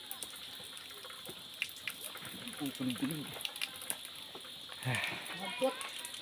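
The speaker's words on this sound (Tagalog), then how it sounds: "Water flowing." Water flows and trickles at low level on Maripipi Island, Biliran, with faint splashes and a voice talking over it.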